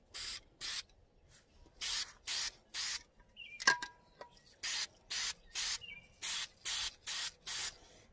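Fluorescent pink spray paint hissing from an aerosol can in a series of short, sharp bursts, a few at first and then a rapid run, close and loud with brief rattles between.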